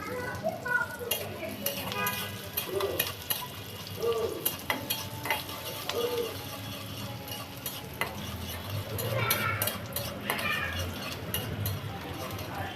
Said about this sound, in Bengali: তো এই যে বন্ধুরা পেঁয়াজটা এই যে ভেজে নিচ্ছি